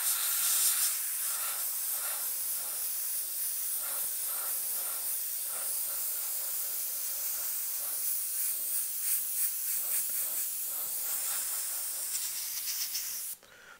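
An airbrush sprays coats of paint in a steady, airy hiss with slight pulsing as the trigger is worked, continuing for many seconds before cutting off near the end.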